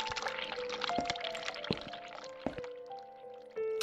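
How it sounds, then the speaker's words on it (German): Hot water tap turned on in The Cat Lady: running, pouring water with drips and liquid splashes, fairly close and steady, with faint tonal ringing and a few clicks along the way. "Heißes Wasser aufdrehen."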